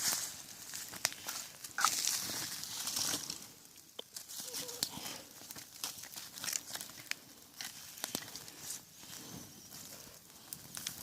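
Close, crackling crinkles of a plastic bag being crumpled, followed by soft rustling and popping as it burns in a campfire in a forest, with faint outdoor ambience.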